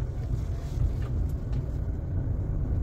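Fiat Punto Attractive 1.4 from 2015 driving, with a steady low engine and road rumble heard from inside the cabin, continuous and moderately loud with some wind noise and no talk.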